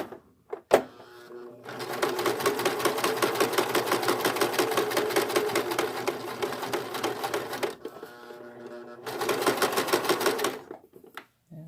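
A sewing machine stitches elastic onto a lycra swimsuit, running in two long steady bursts of rapid, even needle strokes, close and clear, separated by a brief pause.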